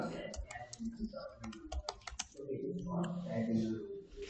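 Quick bursts of keystrokes on a computer keyboard, typed close by in short uneven runs with brief pauses, then softer clicks under faint background noise.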